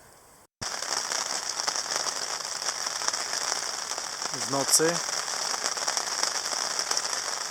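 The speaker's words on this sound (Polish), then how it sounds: "nic nie wierzę, pada deszcz." Steady rain patters across the whole clip after a brief quiet start, with a short spoken phrase partway through.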